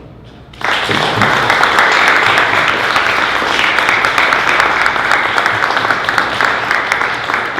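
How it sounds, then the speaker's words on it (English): After a brief quiet moment, an audience at a festival Q&A bursts into loud, sustained applause that continues steadily, with many hands clapping together and no talk over it. "So I want you to give applause to Alice Carrera."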